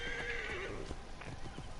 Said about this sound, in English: Oh yeah, and you get a horse